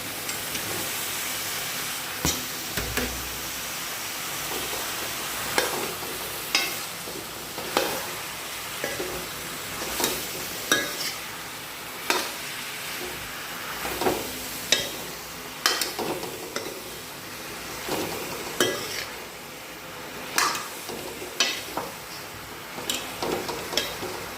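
Masala sizzles in hot oil in a pan while a spoon stirs and scrapes it, giving a steady frying hiss broken by repeated clinks and scrapes, close by and with no talking.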